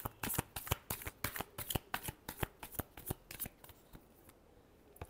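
A deck of tarot cards is shuffled by hand, close up, in a quick run of sharp riffling snaps that thin out toward the end, with no talking.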